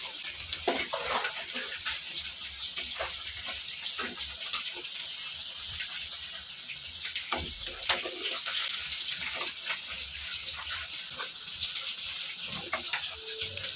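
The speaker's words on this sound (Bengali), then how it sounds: "এখন আমি পরিমাণ মতো জল দিয়ে দিব।" Water is poured into a pan of cauliflower curry, a steady, close rush of splashing and hiss that runs unbroken with faint clinks underneath.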